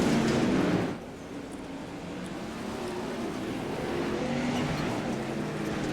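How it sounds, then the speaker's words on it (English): Race cars lap the high side of a dirt speedway at Fairbury during a B-Main Bandits National Tour race, a continuous engine roar that is loudest at first and then settles into a steady, slightly distant drone. "All the leaders rolling around the high side of the speedway carrying momentum."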